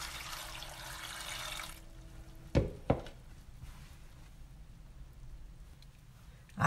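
Water poured into a pot for a cauliflower and egg tajine gives a short steady gush for under two seconds. Then come two sharp clicks and a quiet stretch, with no talking.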